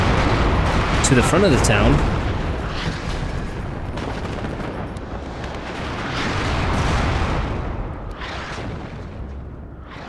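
Incoming artillery in the WARNO real-time strategy game rumbles as heavy booms and sustained low roar, swelling around the middle, with someone talking over it.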